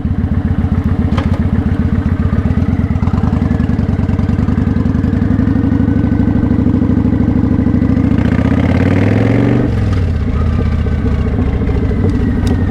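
A motorcycle engine runs steadily at close range with a dense, rumbling low throb, rising briefly as it is revved near the end before settling back, loud and constant with no speech.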